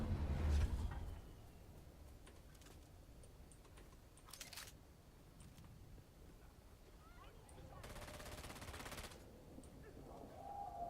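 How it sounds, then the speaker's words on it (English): Distant gunfire in the Dune Awakening game, with a few muffled bursts of rapid shots separated by quiet stretches of ambient noise. "I hear shooting."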